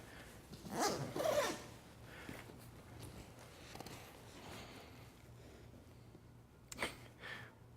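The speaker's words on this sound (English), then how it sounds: "the primary way that you get into the bag is through the back zipper" A 45-litre travel backpack's zipper is pulled open in two quick bursts, followed by quiet rustling and one more short zip near the end.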